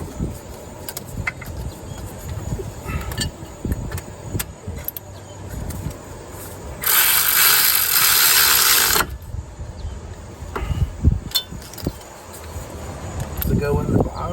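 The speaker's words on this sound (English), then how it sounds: "Go ahead and get our electric ratchet." An electric ratchet runs on a wheel hub during a 2006 Buick Rendezvous hub and bearing job, a loud buzzing whir of about two seconds set among clinks and clunks of garage work.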